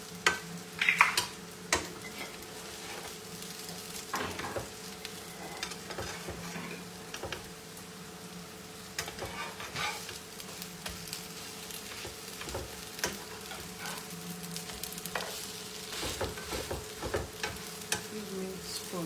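Eggs frying in a pan give a soft, steady sizzle with scattered clinks and scraping, heard faintly at a moderate distance with no talking.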